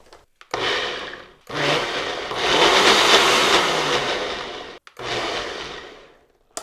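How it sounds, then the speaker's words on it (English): Mushrooms are pulsed in a food processor or blender cup in three loud whirring bursts, the middle one longest, each separated by a short silence. "once it's into your food processor or blender cup, you just want to pulse it a few times"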